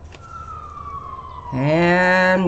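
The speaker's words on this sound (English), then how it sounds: "And there goes another siren" An emergency vehicle siren wails outside a window, a single long falling tone that suddenly swells into a loud, layered electronic wail, fairly close.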